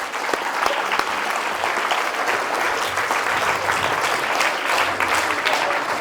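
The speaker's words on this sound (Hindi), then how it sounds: "अनमोल आनंद के लिए ताली बजाएं।" An audience at a school award ceremony claps for an award winner, a dense, loud and steady round of applause that fills the whole stretch without pause.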